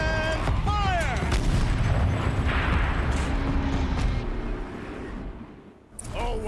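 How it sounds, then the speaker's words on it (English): A turret fires in the video game Horizon Zero Dawn, with heavy booming blasts and rumbling explosions that fill the first seconds, then fade before a voice speaks over them. "Rotate turret! And fire!"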